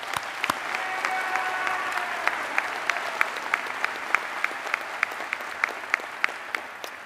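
A commencement crowd at Penn State Law's 2023 graduation applauds steadily, with a few sharp, close individual claps cutting through the continuous wash of clapping.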